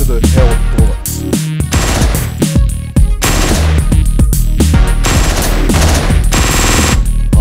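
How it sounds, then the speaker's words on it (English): Machine gun fire in the Hotline Miami video game, loud and sustained bursts of rapid gunshots with brief gaps, dense and continuous over the whole stretch. "There we go, machine gun. Yeah, go over there and grab that. That's it, just run right out into the hell of bullets."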